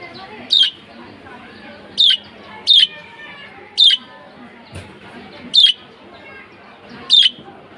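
Pigeons give sharp, brief squawks, about seven spaced calls standing out over a quiet outdoor background with faint low rustling between them.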